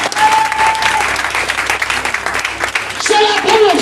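A church congregation applauds and cheers in praise, sustained clapping filling the room with voices calling out through it.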